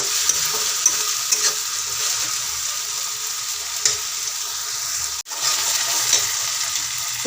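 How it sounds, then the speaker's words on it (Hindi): Spice masala for chole is stir-fried in a pan, giving a constant close hiss with occasional spoon scrapes and one abrupt short dip in the sizzle partway through. "हमें अच्छी तरह से इसे भूनना है मसाले को, थोड़ा सा ब्राउन होने लगे जैसे"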